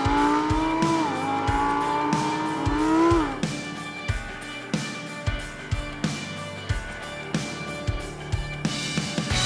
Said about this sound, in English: This is the Lamborghini Huracan STO, and in short, this is an out-and-out sports car dressed in casual clothing.